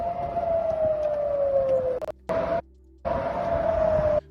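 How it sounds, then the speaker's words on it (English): An air raid siren wails over Tel Aviv, one long, loud, slowly falling tone that cuts off abruptly and returns in a few separate bursts. "This is what happens when the sirens sound in Tel Aviv."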